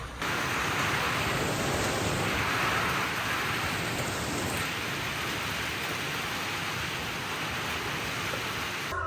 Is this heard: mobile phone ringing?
no